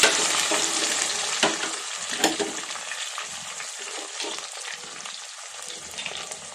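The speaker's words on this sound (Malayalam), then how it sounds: "കടുവ് പൊട്ടി അതിലേക്ക് നമുക്ക് കറിവേപ്പില ഇട്ട് ഇനി നമുക്ക് നേരത്തെ അരിഞ്ഞു വെച്ച സവാള ഇട്ട് അല്ല കൊച്ചുള്ളി ഇട്ട് കൊടുക്കാം" Steady crackling sizzle of shallots frying in hot oil with popped mustard seeds and curry leaves, with occasional stirring clatter and sharper pops, continuous and close throughout.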